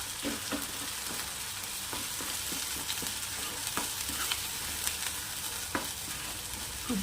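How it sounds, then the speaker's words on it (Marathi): Onion masala being sautéed and stirred in oil for a black chickpea curry, a constant close sizzle broken by a regular run of scraping spatula strokes. "तेल सुटेपर्यंत छान याला असं परतत राहायचं आहे"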